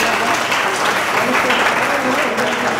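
Loud, full audience applause at a student prize ceremony, close and continuous through the brief moment with no letup.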